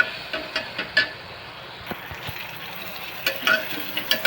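Onion sautéing in a pan, a faint sizzle under repeated light scrapes and taps of a spoon against the pan, spaced irregularly throughout.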